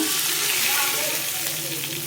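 Oil tempering sizzles steadily in a pan for a Godavari-style gongura dried prawn curry, with broken dried red chillies and cumin seeds, a continuous close frying hiss with no talking.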